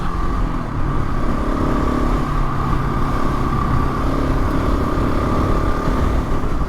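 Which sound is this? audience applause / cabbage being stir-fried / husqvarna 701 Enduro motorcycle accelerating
husqvarna 701 Enduro motorcycle accelerating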